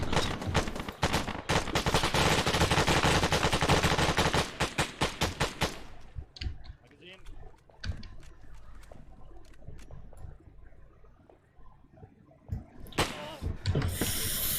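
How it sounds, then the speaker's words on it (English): Rapid automatic gunfire in a video game, loud and continuous for several seconds, then sparse scattered shots with quieter background sound, and a final loud burst near the end. "Contacts northwest. Gunshots."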